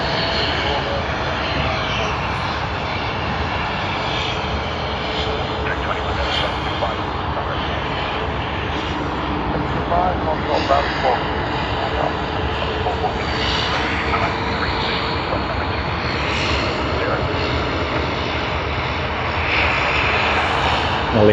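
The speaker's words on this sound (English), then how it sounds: "Has to be one of those private jets." A private jet's engines run at Sydney Airport, a continuous loud whine and rumble that persists throughout with small surges, with some talk faintly in the background.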